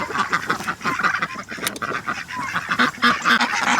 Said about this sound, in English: this is where I keep my adult ducks and chickens